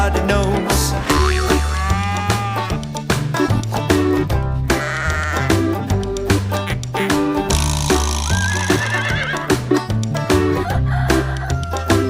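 Sung children's farm song with music and a cartoonish rooster crow and bleating-style animal calls woven into a loud, rhythmic backing track.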